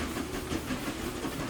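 A train rolling into a station in Transport Fever 2 gives a steady, faint rumble with a hissing wash over it, continuous and distant-sounding.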